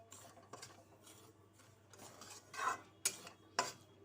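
Semolina being dry-roasted for halwa is stirred in a pan with a spoon, giving soft intermittent scraping strokes, louder in a few bursts near the end over a low steady hum.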